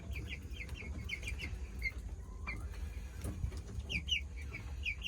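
Chickens cluck and chirp in short repeated bursts over a low background hum, fairly close.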